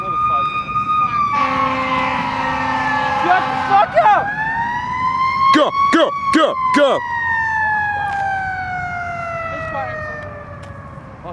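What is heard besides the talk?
ambulance siren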